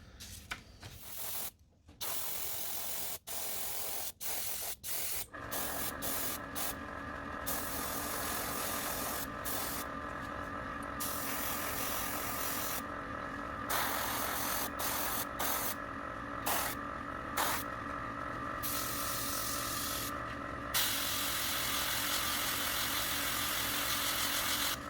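Black spray paint hissing from an airbrush or spray can onto lipless crankbait fishing lures, in short bursts at first, then longer continuous sprays with brief pauses, close and steady over a faint motor hum.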